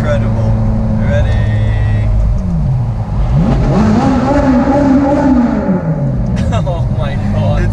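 A Ferrari engine revs hard inside a tunnel, rising into a loud, echoing wail and falling back, its roar filling the enclosed space with reverberant drone and road rumble throughout.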